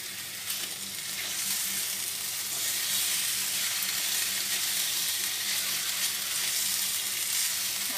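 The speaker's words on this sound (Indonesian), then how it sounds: "Ayamnya aku osengin dulu ya guys, kira-kira aku pakai setengah ayam." Chicken pieces coated in blended yellow spice paste stir-fry in a pan for soto ayam, a steady close sizzle and hiss with no talking.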